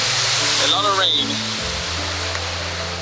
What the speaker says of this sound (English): Properly pouring it down. This is definitely what I'll remember Thailand for. A lot of rain.